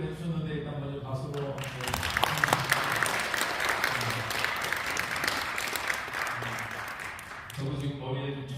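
Audience applause for panelists at a peace forum, a burst of clapping of several seconds, with someone speaking just before and just after.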